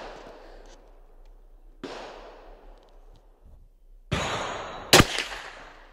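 Sako .22 rifle fired outdoors: a sharp, loud report with a bright crack about five seconds in, preceded by a couple of quieter thumps and a fainter earlier shot.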